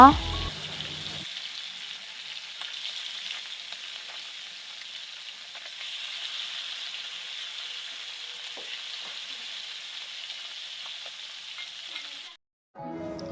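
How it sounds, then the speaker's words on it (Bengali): Fish sizzling steadily in a pan on a village clay stove, a continuous crackling hiss of frying that runs throughout, with brief louder handling noises at the very start and end. "এই যে মাছগুলো ছেড়ে দিচ্ছে ভাজার জন্য"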